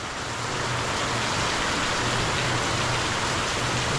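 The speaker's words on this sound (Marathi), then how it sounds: "हा पाऊस बघा केवढा जोरात आला आहे" Heavy evening rain pours down in a dense, unbroken hiss, loud and close throughout with no voices, only a faint low hum running beneath the downpour.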